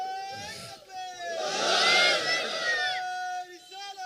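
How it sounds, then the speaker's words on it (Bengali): A large crowd at a Bangladeshi waz gathering shouts a loud, sustained takbir in unison, a swelling chorus of voices lasting a couple of seconds before tapering off under an amplified voice. "তোকে একটা জোরে তাকবীর দাও তো।"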